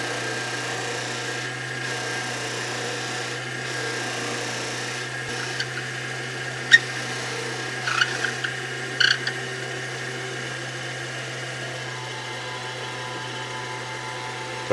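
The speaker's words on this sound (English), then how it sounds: "I just hold this on here and rotate it around and get it good and buffed up" A lathe spins while a motorcycle-themed pen is buffed, giving a steady, even motor hum with faint rubbing and a few small clicks scattered through the middle.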